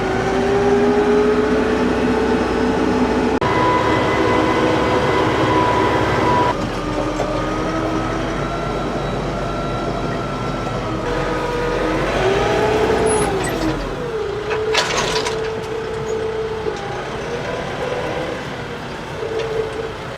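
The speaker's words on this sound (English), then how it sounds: "So let's cut some hay." A tractor mows hay in a weedy field, its engine producing a loud, steady, close drone with shifting pitch and a brief rising surge partway through, and no talking.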